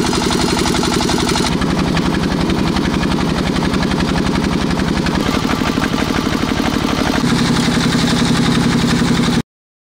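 A press machine moulds red clay bricks with a loud, steady engine-like chugging. The rapid pulse shifts in pitch a few times and runs without pause before cutting off abruptly.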